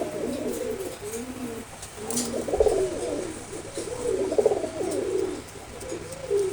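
Fighter pigeons cooing close by, a steady run of low rolling coos repeating over several seconds with a faint background hum and no talk.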